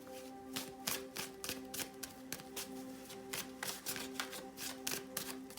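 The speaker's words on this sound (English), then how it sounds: "I'm just going to shuffle more cards." Tarot cards being shuffled by hand, a quiet run of crisp, rapid riffling taps and flicks repeating steadily with a faint tonal hum underneath.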